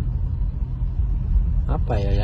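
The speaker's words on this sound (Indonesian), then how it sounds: "ini kan saya baru berkendara ini, ya suaranya hening gitu loh, tenang gitu, nggak berisik" Steady low cabin rumble of a petrol Toyota Fortuner being driven, a smooth and quiet engine drone filling the interior, with a brief voice heard near the end.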